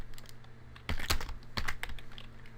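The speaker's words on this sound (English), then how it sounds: "I'm just going to type in my town" Fingers tap out a short burst of typing on a computer keyboard, soft, close keystrokes in uneven clusters with brief pauses, heard alone without talk.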